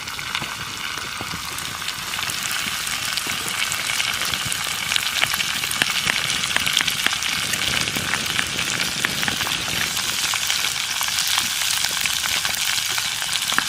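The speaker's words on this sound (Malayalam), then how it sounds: "ചട്ടിയിലേക്ക് ഉള്ളിയും ഇഞ്ചിയും ചതച്ചതിടുവാണ്." Chopped onion and crushed ginger sizzle loudly in a clay pot over an outdoor wood fire, with mustard seeds already popped in the oil. The frying is steady and continuous throughout, with no voices.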